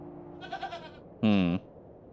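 A goat gives one short, loud, wavering bleat in the video game The Excavation of Hob's Barrow, heard after some quiet background sounds.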